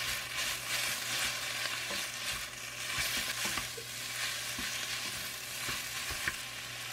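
Fresh spinach stir-fried with a little salt in a hot pan, a continuous close sizzle with scattered clicks and scrapes of stirring, steady and moderately quiet, no voices.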